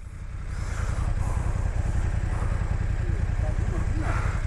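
Honda XRE motorcycle engine rumbling steadily nearby, a low throbbing idle-like drone with clattering pulses, joined by faint background noise and distant voices.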